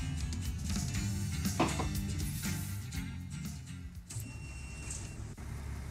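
Truck engine in American Truck Simulator, a steady low rumbling drone with mechanical clicks and a short whirring tone near the end, fairly quiet and with no talking.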